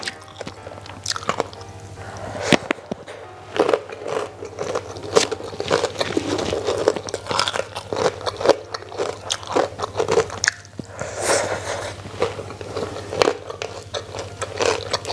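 Crunchy emping crackers and rice being chewed up close at a Padang rice meal, with continuous irregular crisp bites and squishy mastication throughout and no talking.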